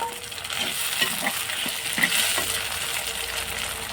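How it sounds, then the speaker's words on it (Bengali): Chopped tomatoes tipped into onions frying in oil for a mutton curry, a continuous loud sizzle with soft stirring scrapes and faint knocks against the pan, no talking. "তো এবার আমি এখানে দুটো টমেটো কেটে নিয়েছি, টমেটোটা দিয়ে দেবো।"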